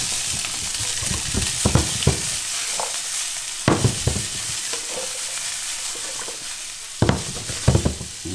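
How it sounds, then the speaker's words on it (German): Green asparagus and garlic fry in a pan with a steady, close sizzle, broken by occasional clattering stirs. "So, das muss jetzt noch ein bisschen vor sich hin braten."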